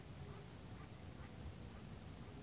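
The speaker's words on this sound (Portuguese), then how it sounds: "Olha os patos ali, que bonito, nadando lá, pessoal." Ducks swimming on the water at a fishing spot, their quacks faint and distant under steady broadband background noise, with no clear individual calls standing out.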